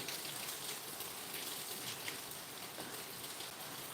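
Rain falls steadily at a low level, a soft continuous hiss of drops on surfaces with no voices over it.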